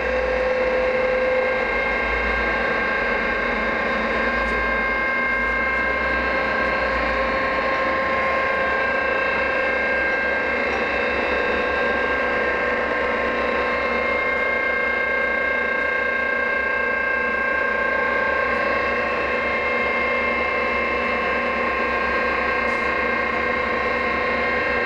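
Carlton 4A radial arm drill from 1971, six-foot arm on a 19-inch column, raising its arm: a steady mechanical whine with ratcheting, gear-driven hum holding at even loudness for the whole span, with no talk over it.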